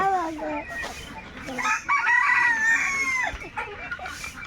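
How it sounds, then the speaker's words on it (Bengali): Several roosters crow in long rising calls mixed with clucking hens close by on a farm, overlapping calls throughout. "অনেকগুলি মোরগ আসছে"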